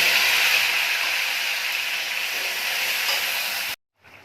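A ground paste of tomato, green chilli and ginger frying in oil for a vegetarian Indian curry, a loud continuous sizzle that eases slightly before cutting off abruptly near the end.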